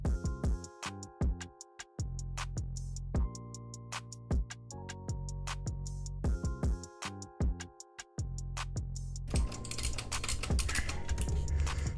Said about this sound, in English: my keyboard is pretty loud